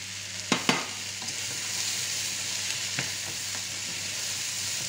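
Carrots frying in a venison sauce, with a steady broad sizzle throughout and a few sharp clinks and scrapes of stirring near the start and around the middle, no talking.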